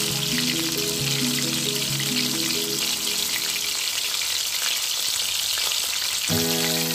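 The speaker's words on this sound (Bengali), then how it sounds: "তেলটা একটু গরম হওয়ার পরে পটলটা ভাজতে দিয়েছি।" Pointed gourd (potol) frying in hot oil, a steady dense sizzle running throughout with soft background music tones, close and fairly loud, with no talking.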